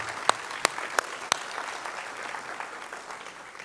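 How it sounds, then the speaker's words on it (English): An audience at a career academy signing ceremony gives a round of applause, a sustained moderate clapping wash with a few sharp close claps standing out near the start. "Let's give them a round of applause"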